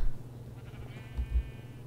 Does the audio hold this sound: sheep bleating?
yes